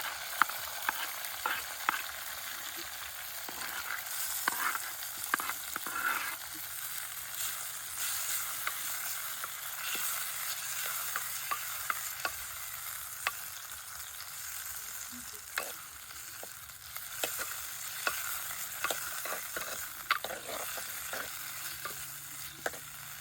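Onions, chili and garlic fry in a pan in a village kitchen, with a faint, steady sizzle and scattered sharp clicks and scrapes of stirring throughout, no talk.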